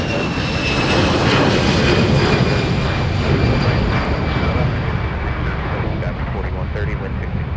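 A jet airliner's engines roar at Minneapolis–St. Paul airport during takeoff, a loud, steady broadband rumble that holds for several seconds with a high whine layered on top.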